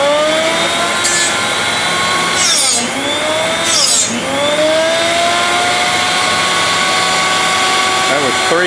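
A bench grinder sharpening drill bits whines steadily and loudly throughout, with the pitch sagging briefly twice as the bit is pressed to the wheel.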